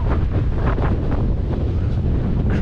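Strong, gusting wind on an exposed fell hike buffets the microphone in a constant loud roar with rumbling bursts and no pauses.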